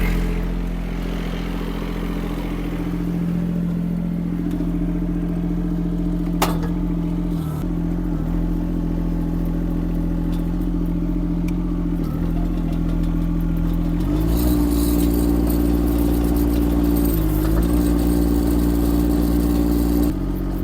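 A diesel Chinese mini excavator engine runs steadily up close with a deep, continuous hum and light clatter; the pitch shifts slightly and grows louder partway through.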